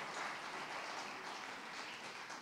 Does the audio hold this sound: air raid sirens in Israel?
no